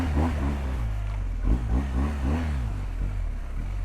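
An adventure motorcycle engine drones under constant throttle on a slippery, low-grip trail in India, a steady rumbling note with wavering pitch as the rear wheel slides, close and continuous.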